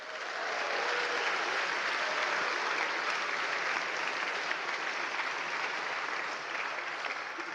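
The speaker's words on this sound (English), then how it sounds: "Give yourself a big applause." A large conference audience of several hundred gives sustained applause, an even, dense wash of clapping that swells in and holds steady from start to finish without talk.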